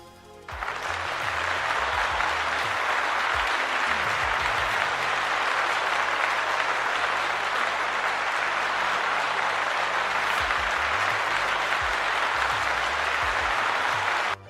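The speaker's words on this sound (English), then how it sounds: "Let's give them a round of applause," Sustained, even applause from an online homebrew tabletop game review show, a dense wash of clapping held at steady loudness for over ten seconds, alone with no talk, ending abruptly.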